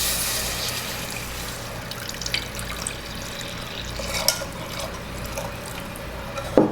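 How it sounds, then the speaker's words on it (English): Room temperature milk pours into a pan on low heat for a lasagna béchamel, a continuous soft liquid rush with faint splashes and a small clink at the end. "Now we got the pan on low, and I just added in kind of like room temperature milk."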